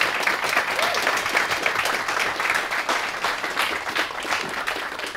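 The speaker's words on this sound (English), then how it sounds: "So big clap to John." Church congregation applauding after a baptism announcement, a sustained, dense round of clapping filling the whole stretch at steady loudness.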